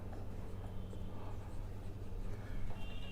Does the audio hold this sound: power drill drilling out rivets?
no